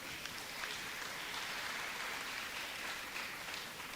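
Steady audience applause at a student awards ceremony during Mico Week 2025, a dense continuous wash of clapping at moderate level filling the whole stretch with no talk over it.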